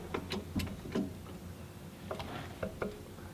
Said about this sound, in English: That noise you're hearing is actually the tires just moving a bit on the garage floor.